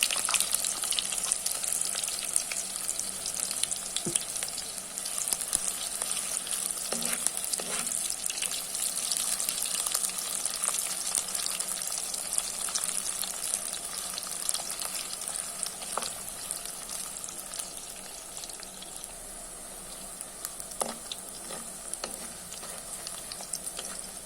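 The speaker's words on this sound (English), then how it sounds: "Now I'm going to add half of the onions, that is also for the garnish. Let's fry it until golden brown." Half a batch of garnish onions fry in a pot for Sri Lankan yellow rice, giving a steady, dense sizzle and crackle that holds evenly throughout, with faint occasional stirring and no voices.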